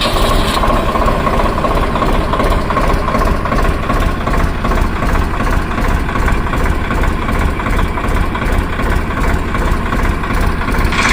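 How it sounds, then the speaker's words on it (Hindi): A Swaraj 855 FE tractor from 2025 runs at a steady idle nearby, a loud, continuous low diesel rumble and vibration that holds unchanged throughout with no talking. "अब हम आपको इसको ट्रैक्टर को स्टार्ट करके इसकी आवाज़ सुनाते हैं।"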